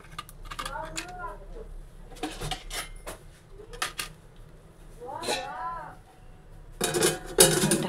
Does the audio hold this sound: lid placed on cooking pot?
yes